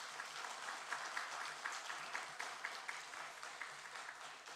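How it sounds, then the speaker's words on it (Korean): A church congregation applauds in thanks to God during a sermon, a steady broadband wash of many hands clapping with a few louder claps standing out, sustained evenly throughout. "우리 하나님께 감사의 박수 오늘 올려드리면 좋겠습니다."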